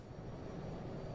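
A jet engine on a CRJ550/700 airliner in Microsoft Flight Simulator spools up into a steady, low, faint roar with a broad rushing hiss, continuous and alone.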